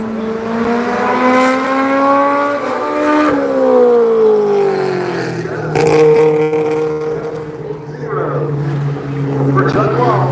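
Race car number 81's engine howls through rising and falling revs while qualifying on the Bowman Gray Stadium short track, loud and near, with an announcer's voice over it.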